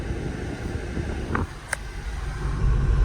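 A car is driven by a first-time learner, its engine and road noise a steady low rumble for a few seconds with a faint click midway, and no talking heard.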